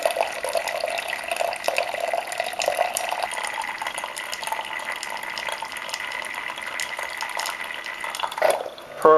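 A Keurig B70 coffee maker pours roughly 300 ml of water into a cup in a steady, close stream for about nine seconds, then ends with a brief gurgle.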